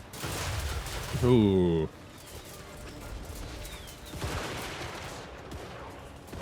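Gunfire from units in the strategy game Total War: Warhammer 3, heard as a short burst of muffled volleys at the start, followed by quieter distant battle noise, with a brief vocal exclamation over it.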